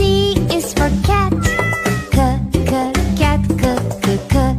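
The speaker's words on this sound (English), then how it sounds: "C is for cat" A cartoon cat meows several times in quick succession, the calls sitting over a bouncy children's nursery-song backing track with a steady beat.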